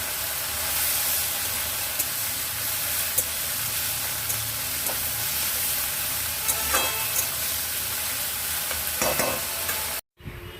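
Fish fries in a pan as ginger paste goes in, making a loud, even sizzle and hiss up close with occasional stirring scrapes, with no speech, until the sound cuts off abruptly near the end.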